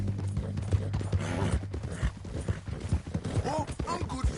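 Horse hooves clip-clop at a steady, even pace in Red Dead Redemption 2, close and clear beneath a continuous low background rumble throughout.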